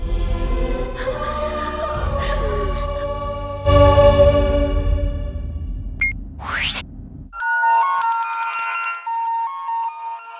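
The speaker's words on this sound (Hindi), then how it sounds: "संध्या का फोन आया।" A phone rings with an incoming call in a Hindi film scene, its electronic melodic ringtone repeating in short bright tonal phrases that stand out clearly against background sound, with no talk over it.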